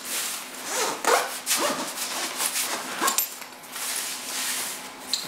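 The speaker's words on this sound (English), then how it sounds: "I'm just gonna zip this shut now." A zipper drawn around a Marlon carry-on suitcase, giving a series of close, scratchy rasping pulls with short pauses between strokes and no talk.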